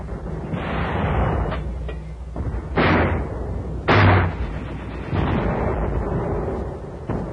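Mortar and artillery fire during a WWII infantry and tank assault toward Aslito airfield on Saipan: a steady rumble of gunfire broken by several loud, sharp blasts around the middle, with no talk.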